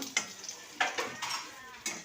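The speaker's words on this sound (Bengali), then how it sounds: "তো দেখো আমি পটলটা ভাজছি" Pointed gourd slices frying in a pan, close sizzling with several scraping stirs of a spatula in quick bursts, no talking.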